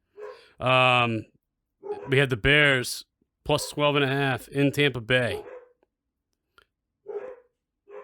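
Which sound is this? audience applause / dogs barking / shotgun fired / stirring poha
dogs barking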